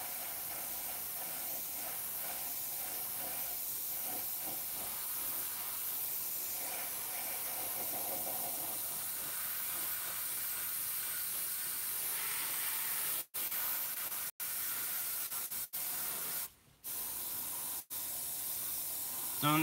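Steady airbrush hiss spraying chipping fluid continuously, near and even, with a few abrupt cutoffs near the end as the spray stops and starts.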